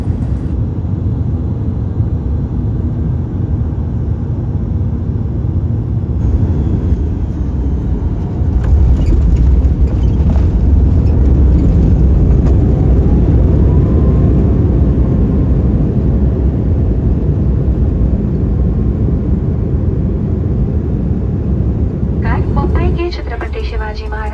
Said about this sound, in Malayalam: ലാൻഡിങ്ങിന് വേണ്ടി തയ്യാറെടുത്തുകൊണ്ടിരിക്കുകയാണ് ഫ്ലൈറ്റ്